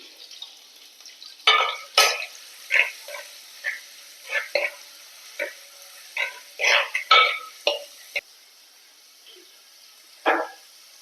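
Crushed ginger and garlic go into a pan for a Kalanji fish curry and fry with a steady faint sizzle, broken by a string of sharper scraping stirs spaced over several seconds.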